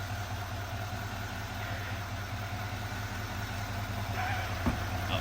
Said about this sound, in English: All right, truck's running.